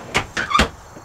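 A deep storage drawer in a camper van slides open in a couple of quick runner rumbles, close and fairly loud, with no talking.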